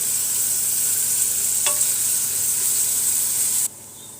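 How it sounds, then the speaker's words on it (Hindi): Three medium onions, sliced, fry toward golden brown in a pan with a loud, steady, close hiss of sizzling oil, broken by one brief clink before the sound drops away near the end. "अब मैं इनको गोल्डन ब्राउन करूँगी"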